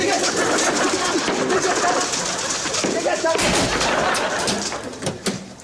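Pigeons near a parked car: a busy outdoor mix of cooing and fluttering with loud sharp bursts and clatter toward the end, all dense and close.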